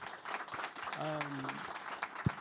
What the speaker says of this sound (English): If you guys can give them a round of applause